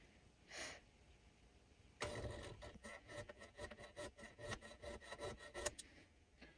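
A steel hand file cuts the front-sight dovetail on an M&P Shield handgun, giving close, rhythmic rasping strokes after a brief scrape and a pause.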